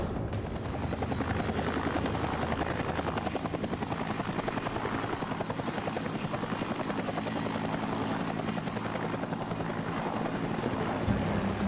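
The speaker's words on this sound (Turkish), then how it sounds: "Yalnız ben ilk defa biniyorum askeri helikoptere." A military helicopter flies with a loud, steady rotor thump and engine whine, heard from inside the cabin and continuous throughout with no talking.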